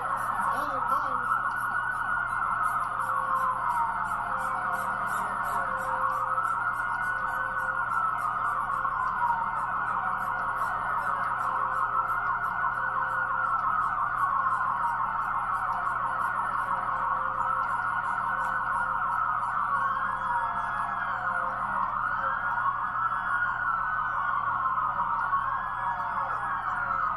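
Wailing police sirens at a nighttime street protest, several overlapping rising and falling tones repeating steadily and loud for the whole stretch over a constant crowd and traffic hum, with faint voices underneath.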